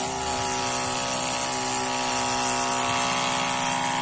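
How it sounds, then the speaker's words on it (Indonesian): Garden watering pump switched on through a smart breaker, running as a steady, loud mechanical whine and hum with tonal harmonics that stays constant throughout. "Ini pompa sudah nyala"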